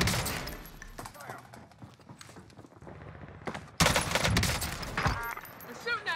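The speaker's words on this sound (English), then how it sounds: "They're shooting at me!" Call of Duty Warzone gunfire crackles in irregular bursts of shots, with a louder volley partway through and footsteps mixed in, over moderate background game noise.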